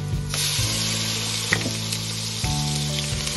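Ginger fries in a hot pan with a loud, even sizzle. A few stirring knocks and scrapes land at irregular intervals, and no voice is heard.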